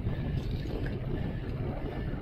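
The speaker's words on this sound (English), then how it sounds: "We got a headwind today too, coming out of the west." Wind blowing against a moving cyclist, a steady low rush and rumble of air across the microphone, with no speech heard.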